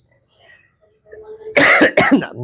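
A couple of harsh, close coughs, sputtering and throaty like someone choking on something, after a few quiet seconds with faint sounds in the background.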